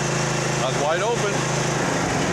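A Massey Ferguson (Simplicity) riding mower engine runs steadily at wide open throttle, a loud, constant close-up drone, while someone talks briefly over it.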